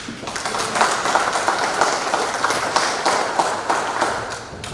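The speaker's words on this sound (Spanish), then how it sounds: "La recibimos con un fuerte aplauso." Strong applause from an audience welcoming a speaker to a lecture, a dense steady clapping that fills the whole stretch evenly with no voices over it.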